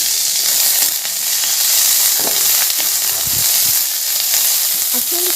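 Raisins and cashew nuts sizzle in hot oil, a steady loud fry hiss with occasional pops and crackles as they brown, no talking over it.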